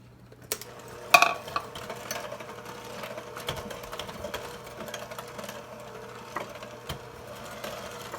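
Electric mixer beating pumpkin biscotti dough of butter, sugar and dry ingredients, a steady low motor whir with scattered clanks of beaters against the bowl, fairly quiet and close, no speech.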